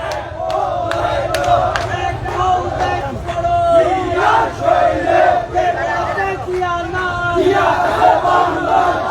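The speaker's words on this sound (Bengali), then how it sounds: "স্লোগান শুনতে পাচ্ছি যে বিচার চাই গুণ কোন হত্যার বিচার চাই" A large crowd at a Hatazari Jubo Dal political rally chants slogans in loud rhythmic unison, call-and-response bursts rising and falling over steady crowd noise, with a voice leading between shouts.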